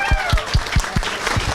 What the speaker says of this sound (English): Please give her a very warm applause.